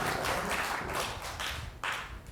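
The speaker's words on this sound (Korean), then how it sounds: "소리에 박수 한번 쳐줍시다" A church congregation at a youth worship service applauds, a soft, somewhat distant patter of many hands that rises and falls in bursts, with no speech over it.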